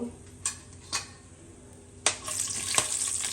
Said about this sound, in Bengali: কয়েকটা দারচিনি, কয়েকটা লং আর 3টা এলাচি দিয়ে দিলাম। এগুলোকে আমি একটু ভেজে নেব।